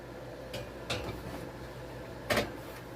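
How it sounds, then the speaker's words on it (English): A muffin tray slides into an oven set at 350, producing three brief, quiet clunks and knocks, the last one sharpest, against a low background hum. "let's get them in the oven"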